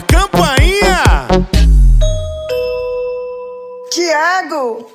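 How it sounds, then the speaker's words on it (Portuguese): A two-note ding-dong doorbell chime rings out clearly and steadily after a stretch of animated talking in a live sertanejo show, then the voice resumes once the chime fades. "eu escutei uma campainha"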